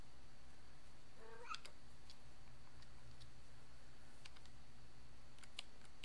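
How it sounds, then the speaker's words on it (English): Cat giving a single short meow in a room with a faint steady background hum, followed by a few light clicks that sound like typing. "Shut up, cat, you're making noise."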